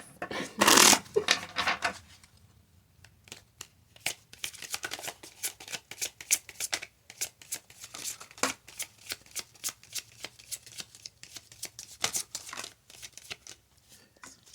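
Tarot cards are shuffled close up in quick, rapid riffling bursts, with soft pauses between rounds and a loud crinkle at the start.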